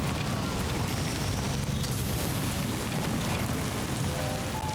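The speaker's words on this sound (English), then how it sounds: "Wow, it is really coming down. This is not just a light drizzle. This is a full-on storm." Heavy storm in the game Death Stranding 2, dense pounding rain on surfaces with a low rumbling undertone, loud, steady and unbroken throughout.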